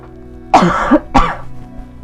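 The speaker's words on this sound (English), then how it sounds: "I'm gonna have to cough." Two sharp, harsh coughs in quick succession, close and fairly loud, with quiet before and after.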